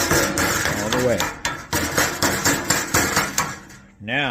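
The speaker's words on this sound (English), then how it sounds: "you're going to take your mallet" Mallet blows on an HVAC Pittsburgh seam in sheet metal, a steady run of sharp metallic hits about twice a second, close and loud, ending with a brief ringing tone.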